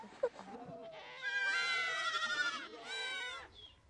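Goats and sheep in a Moroccan Atlas herd bleat in several drawn-out, wavering calls, one after another, close and fairly loud, with a few brief knocks and rustles at the start.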